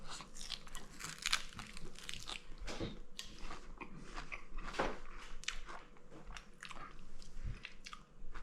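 Close, crisp bites and steady chewing of a homemade cottage cheese flatbread, with irregular crunches and soft squishes through the whole stretch. No one talks.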